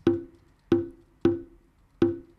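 Four evenly spaced bongo hits, each a short, resonant tap that decays quickly, played alone without kick or bass behind them.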